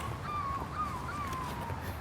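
A five-year-old girl at a cemetery at night imitates a bird call, giving a few faint, wavering whistled cries over quiet outdoor ambience.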